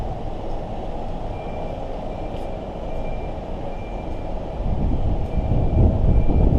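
Train passing near a station in Manchester city centre, heard as a steady, heavy low rumble that grows louder and nearer over the last seconds, with a faint high tone above it.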